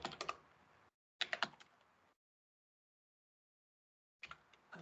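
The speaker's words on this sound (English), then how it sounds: "I'm just typing AZ provider -H" Rapid bursts of computer keyboard typing entered at a command line, clustered keystrokes in three short runs separated by silent pauses, close and fairly clear with no talking.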